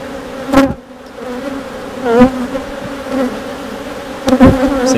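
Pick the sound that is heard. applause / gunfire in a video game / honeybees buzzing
honeybees buzzing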